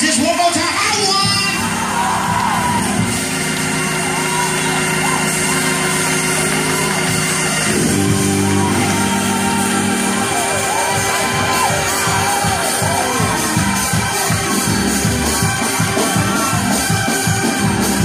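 A church congregation shouts together in a loud, sustained roar of voices and cheers over ongoing music, filling the whole stretch without a break.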